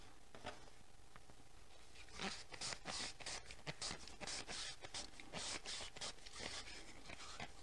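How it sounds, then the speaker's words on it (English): Hands scrub a painted aluminum juice can back and forth, giving a steady run of close, dry scraping and rubbing strokes that repeat through the whole stretch with no talk. "just scrub it back and forth in my hands like this"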